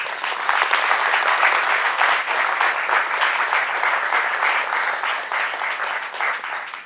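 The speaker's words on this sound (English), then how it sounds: "So, round of applause for the sponsors." A crowd claps steadily and energetically for several seconds, a dense wash of applause without a pause.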